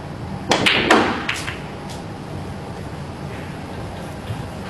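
Snooker balls knock together in a cannon during a professional qualifier match, a couple of sharp clicks and thuds early on, then only faint table noise and quiet room ambience.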